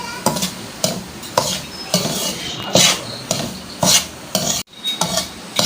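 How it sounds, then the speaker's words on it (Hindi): A metal spoon stirs half a kilo of semolina roasting on low heat in a pan for panjiri, scraping in steady, loud, rhythmic strokes about once a second, close up, with no voices. "अभी तो मैं भून रही हूँ, लेकिन चमचा चलाते रहेंगे हम, ताकि इक्वली ये भून जाए।"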